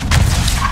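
A tank's main gun fires in a tank video game, a loud booming blast with broad low-end rumble that fills the whole short moment, with no talk over it.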